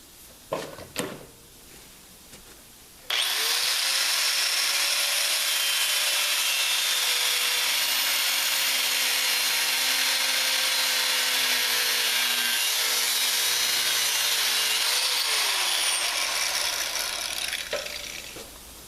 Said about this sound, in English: I'm gonna shave a piece of this casting off here